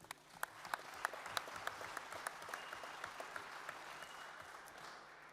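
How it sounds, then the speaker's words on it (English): A boxing-event crowd in Liverpool applauds European Super Lightweight champion Joe Hughes, a dense steady patter of many hands clapping, with a few sharper claps poking out and no talking. "big round of applause for the current European Super Lightweight champion"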